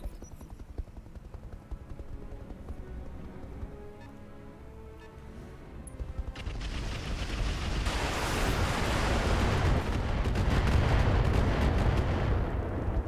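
Artillery fire in the BattleTech Roguetech mod, a low rumbling barrage that starts subdued, then swells after about six seconds into a sustained, dense roar of blasts and debris, with no talk over it.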